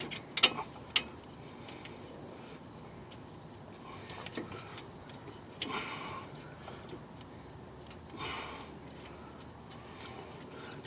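A wrench turning a brake caliper bolt on a 1998 Jeep Grand Cherokee Laredo 4.0 4x4 makes quiet ratcheting clicks and short metallic bursts, spaced irregularly and close by, with no talking.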